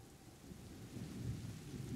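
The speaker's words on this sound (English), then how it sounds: "That rain, that sky, that thunder." Rain falls steadily with low rolling thunder in a stormy scene from the video game A Plague Tale: Innocence, a soft continuous rumble with no voices.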